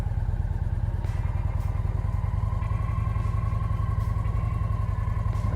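Motorcycle engine running at low revs, steady and close, as the bike rolls slowly with the clutch held in the friction zone and the rear brake dragging. The throb is even and rhythmic with a faint whine above it and no speech.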